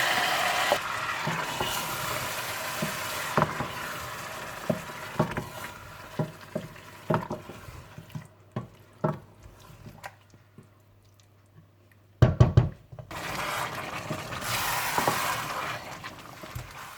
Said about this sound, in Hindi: बाकी प्याज में आप मैरिनेट किया हुआ चिकन डालकर भून लें